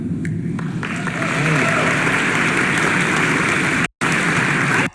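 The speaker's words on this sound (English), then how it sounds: "I have no idea why the crowd is clapping" Crowd clapping at an immigration debate, swelling from a murmur into steady, loud sustained applause that cuts out briefly before ending abruptly.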